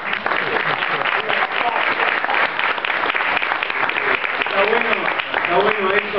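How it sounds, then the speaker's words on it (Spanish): Loud, sustained applause from an audience at a comics expo talk, dense clapping throughout with voices audible underneath. "Fuerte el aplauso, fuerte el aplauso."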